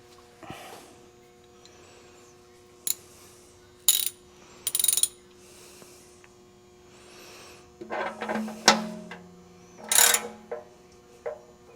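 A ratchet wrench clicks in short separate bursts while tightening during an oil change on an RV, loud and close over a quiet background hum.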